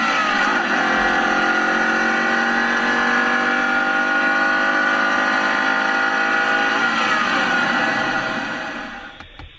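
A 2015 Ford Mustang engine runs at a steady, loud pitch with a sustained, slightly rising drone, holding for most of the stretch before fading out at the end.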